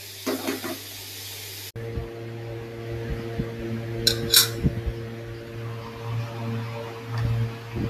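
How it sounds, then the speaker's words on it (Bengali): Metal spatula clatter and scraping in a pan as vegetables are stirred and fried, with a steady low hum behind and a couple of sharper clinks midway; no one speaks. "ভালো করে নেড়ে চেড়ে এখন কিন্তু সবজিটাকে ঢাকবো না, কিছুটা সময় ধরে একটু ভালো করে ভেজে নেব"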